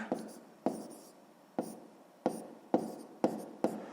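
Pen strokes scratch across paper as numbers are written out for a sixth-grade maths exercise, a series of seven short scraping bursts, each starting sharply and fading, close and alone.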